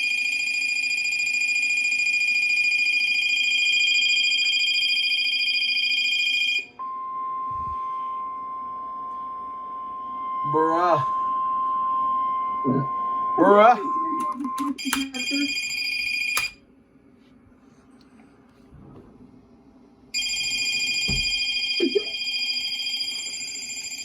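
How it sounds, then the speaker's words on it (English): Shrill electronic siren tones from a ShareCom WRP-50 radio, steady high-pitched wailing in long stretches broken by gaps, with someone talking briefly in between. "here is the horrendous, quite frankly, sounding Siren on the ShareCom WRP-50"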